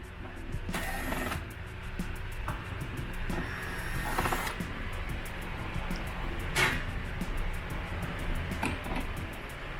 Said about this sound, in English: all we have to do is take the 4 T25 bolts out